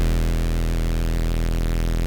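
Serum synth saw and square oscillators, with the sub pitched up one octave for a speed garage bass, hold a buzzy, harmonically dense sustained note for about two seconds before cutting off abruptly.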